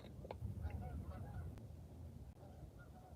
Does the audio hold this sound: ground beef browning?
no